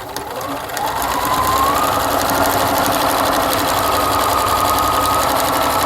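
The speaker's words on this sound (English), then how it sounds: "So here I'll just stitch the other side down." A sewing machine stitches bias tape in a steady, loud, continuous run of rapid needle clatter and motor whir that starts up and holds its pace throughout.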